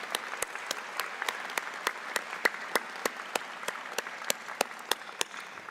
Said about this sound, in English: Can I have a round of applause for all of you?